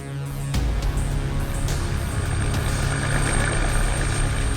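A helicopter drones steadily and loudly, its rotor and engine noise filling the whole stretch after a brief quieter start.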